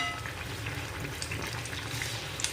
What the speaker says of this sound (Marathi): तळून घेतोय.